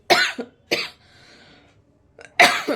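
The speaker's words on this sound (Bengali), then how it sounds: "একটু কাশি মতো হয়েছে" Three sharp coughs from a person close by in a cold room at home, two in quick succession and then a pause before the last, with a faint hum in the quiet gap.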